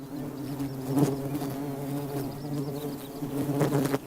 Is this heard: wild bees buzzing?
yes